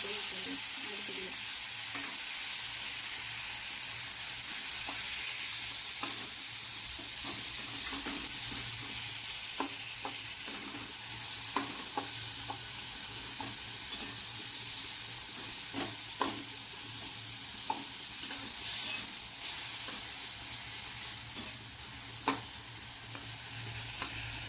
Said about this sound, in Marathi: त्यात आता आपण आपले बारीक चिरून घेतलेले टोमॅटो ॲड केले